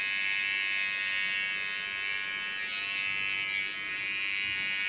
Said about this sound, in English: Take a small clipper